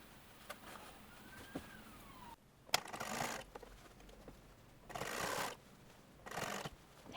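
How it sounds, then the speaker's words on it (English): A domestic sewing machine running a blind hem stitch on a dress cuff, with short bursts of whirring stitching separated by pauses and mechanical clicks, close and moderately loud. "Hem using the blind hem stitch on your machine if you have it."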